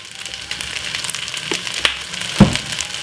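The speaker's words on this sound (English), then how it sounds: "Give it a good stir again." Jerk pasta linguine with mixed vegetables and a splash of sweet chili sauce stir-frying in a hot pan, giving a steady close sizzle broken by a few scraping stirs of the spoon.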